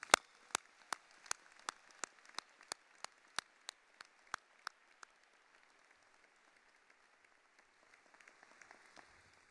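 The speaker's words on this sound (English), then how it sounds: "And for that, you deserve a round of applause." Applause at a veterinary medicine commencement ceremony, heard as a quiet, sparse run of distinct claps in an even rhythm that fades away after about five seconds, leaving near silence.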